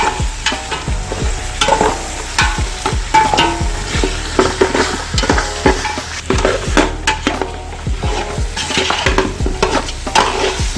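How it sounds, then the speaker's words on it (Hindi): Mutton for pulao frying in a pot while being stirred, loud repeated scraping and clanking strokes over a constant sizzle, close and busy throughout. "अभी बार मटन को फ्राई करते हुए हमारे 5 मिनट हो चुके हैं।"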